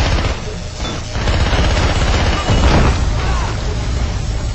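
Rifle fire in the video game SpyHunter Nowhere To Run: loud, rapid bursts of shots that merge into a continuous barrage, with heavy booming impacts throughout.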